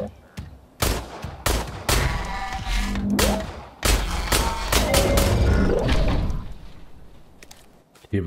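Bursts of sharp, loud gunfire from the video game Industria, several shots in quick clusters with brief pauses, dense and close.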